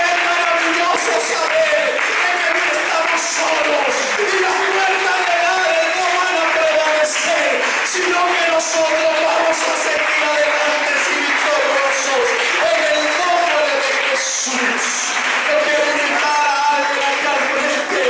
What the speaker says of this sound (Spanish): No pares de aplaudir la presencia de Dios